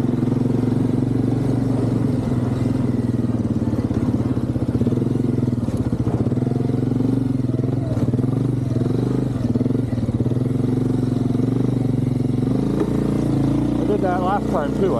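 A Yamaha Big Bear 350 ATV engine droning steadily while riding in snow, with a continuous mid-pitched putter and shifting revs, plus clattering and scraping, under voices talking throughout.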